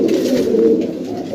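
Pigeons, including a black one, coo softly but close by, a low continuous throaty burbling that runs through the whole moment with no voices.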